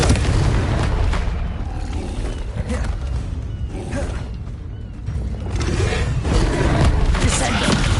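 Repeated Confringo fire-spell explosions in Hogwarts Legacy, loud booming blasts and crackling impacts in dense combat noise, with mechanical clatter and voices mixed in.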